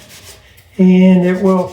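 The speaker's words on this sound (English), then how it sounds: "Rub that in, and then I'll actually do some sanding" Sanding on a wood torus vase worked with CA glue and rubbed-in sawdust, starting abruptly partway through as a loud, steady abrasive drone with a slight shift near the end, following a quieter stretch with a brief spoken phrase.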